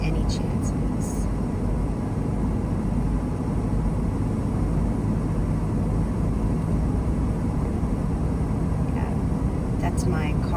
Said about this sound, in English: That's my car shifting down.